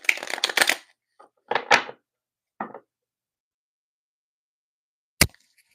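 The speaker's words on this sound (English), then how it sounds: "Let me shuffle this deck real quick." A deck of tarot cards is shuffled in several quick riffling bursts, close and crisp against silence, ending with a single sharp tap.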